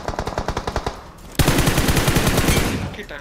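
Automatic gunfire from a PUBG Mobile match, a rapid burst of about a dozen evenly spaced shots, then after a short pause a loud, dense continuous spray of fire lasting nearly two seconds.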